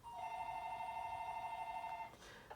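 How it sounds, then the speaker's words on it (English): A telephone rings with a steady electronic tone for about two seconds before cutting off, faint and slightly distant, above a quiet background. "now my phone wants to ring"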